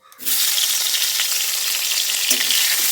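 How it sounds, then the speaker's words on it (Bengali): Eggplant pieces rubbed with salt and turmeric hit hot oil and fry with a loud, continuous close sizzle that starts abruptly and stays steady throughout, with a faint stir midway. "আগে থেকে কেটে রাখা বেগুনগুলোকে একটু নুন হলুদ দিয়ে মাখিয়ে এখন তেলে দিয়ে সেটাকে ভেজে নিতে হবে"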